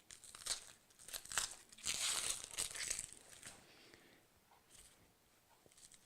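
Dry papery crinkling and tearing as the outer skin is peeled off an onion in a home kitchen, a few close, quiet bursts of rustling that fade out.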